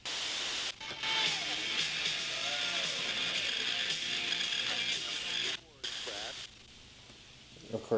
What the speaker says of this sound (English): there's a ton of interference around here with the computer that's in the background on my desk